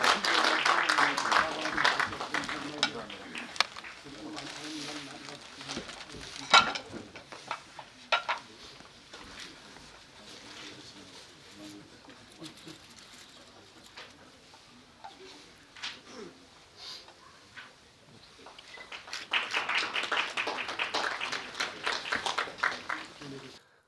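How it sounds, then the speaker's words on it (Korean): Steady applause from a crowd at an association's general meeting and inauguration ceremony, swelling at the start and again near the end, with talking mixed in through the middle. "큰 박수 부탁드리겠습니다"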